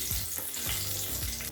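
Cashews, cumin, chopped ginger, asafoetida and curry leaves frying in hot oil in a pan for samai millet pongal, a steady close sizzle with a few stirring scrapes, no voices.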